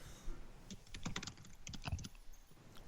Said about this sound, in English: Can you hear him typing?